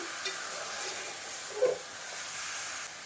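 Coriander powder being stirred into chicken curry, the chicken marinated in salt, turmeric, chilli powder and ginger-garlic paste, with a steady close sizzle and soft spoon scraping, one brief sharper clink midway, no talk.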